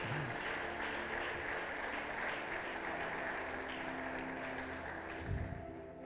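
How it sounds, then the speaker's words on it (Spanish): A church congregation applauding at a Sunday service, a steady, somewhat distant wash of clapping mixed with a low crowd murmur, holding level throughout with one brief louder thump near the end. "Dale fuerte aplauso al Rey de Reyes"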